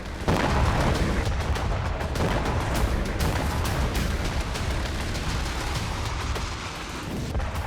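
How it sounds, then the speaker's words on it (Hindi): Explosions along Lebanon's southern border, a loud, continuous rumbling roar of blasts and crackling bursts heard from a distance, sustained and dense without any voices. "वहां रुक रुक कर धमाके हो रहे हैं, बारूदी विध्वंस की आवाज सुनाई दे रही है।"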